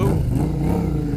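Yamaha Thunderace motorcycle engine revving nearby, a loud continuous low rumble held through the short stretch.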